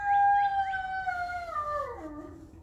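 A single dog howls close by, a clear, tonal call that holds a long note with a few wavering rises before sliding down in pitch and fading, with no talking around it.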